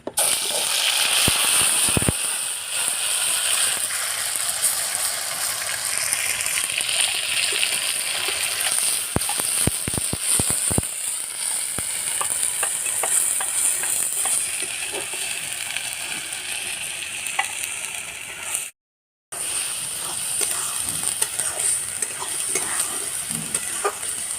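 Ground ghatkol leaf paste with black cumin frying in a pan, sizzling steadily and loudly up close while a utensil stirs and rattles against the metal, with one brief break.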